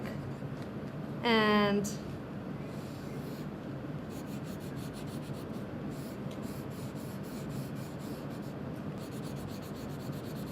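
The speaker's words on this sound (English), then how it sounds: "I'm going to draw my hair and write what it looks like" Marker scratching across paper while drawing hair and writing, steady soft rubbing strokes close up with a short rising squeak near the start, heard under a person talking.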